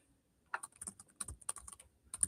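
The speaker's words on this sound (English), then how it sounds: "Sorry, I'm typing something to Katie in the background." Fingers tap on a computer keyboard in quick, uneven bursts of crisp clicks, close and fairly quiet, with no voice over them.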